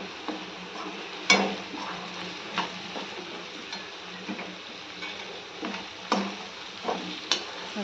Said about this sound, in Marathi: हा काढलेला सगळा मसाला आपण या साहित्य याच्यात टाकून घेऊ कढईमध्ये आणि छान असं मिक्स करूया